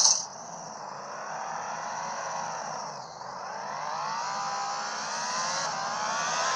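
Car engine from a driving video game, a continuous synthetic whine that climbs and falls in pitch with a brief dip midway, loud and steady with no voices.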